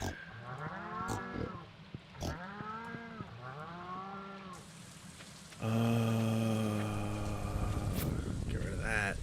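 Cows moo on a farm in the video game Stardew Valley, several long bellowing calls in succession, close and clear, with a steady rain-like hiss behind them and a louder tone layer near the end.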